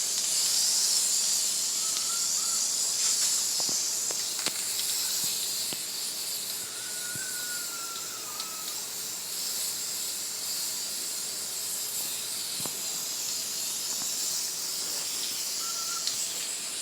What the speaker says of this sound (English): Now let's see if it sprays any better.